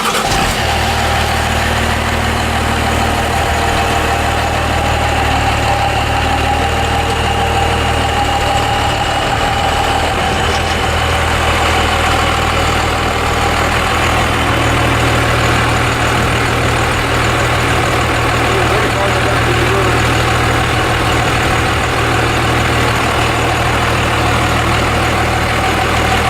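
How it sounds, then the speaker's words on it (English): A Cummins diesel engine idles close by, a loud low rumble with a steady throbbing chug that runs unbroken throughout. "Okay, engine running."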